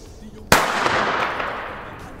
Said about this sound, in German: Und jetzt die China-Böller